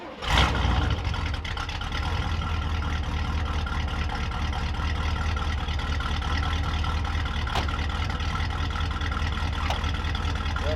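An old RV camper engine cranks and catches, then settles into a rough, rumbling idle with a low heavy drone, close and steady, with a few faint clicks and knocks over it.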